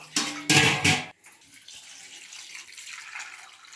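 Water is poured from a vessel onto soaked chickpeas in a kitchen, a brief loud splashing gush for about a second, then a short pause and quiet dripping and trickling afterward.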